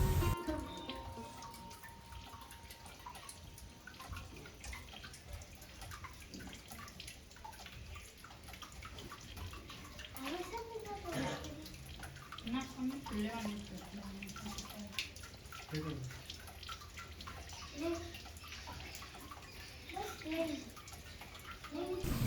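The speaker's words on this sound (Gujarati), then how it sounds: "બારે માસ પથ્થરની આ શિલામાંથી અવિરત પાણી ઝરતું હોવાથી" Water trickles steadily from a rock onto a Mahadev temple shrine at Jariya Mahadev in Gujarat, a continuous faint splashing and dripping flow beneath a voice talking throughout.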